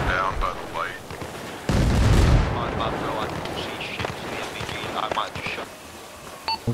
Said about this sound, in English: We're going to be stranded out here in mortar fire.